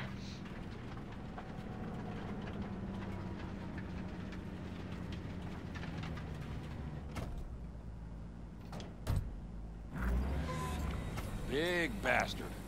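A train rumbles steadily inside the video game Cyberpunk 2077, a continuous low mechanical drone with clanks and a door-like slide near the end.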